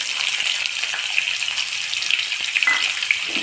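Two chopped onions, along with a bay leaf and a green chilli, sizzle steadily in hot oil in a pan for an Assamese jackfruit curry, a continuous close crackling hiss with no talking.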